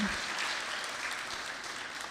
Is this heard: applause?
yes